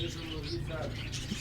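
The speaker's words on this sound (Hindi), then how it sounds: "ये करबलाई कबूतर का पेयर" Karbalai pigeons at the Sunday bird market on Kasi Road in Quetta give soft coos and chirps, faint under a constant crowd hubbub and nearby talk.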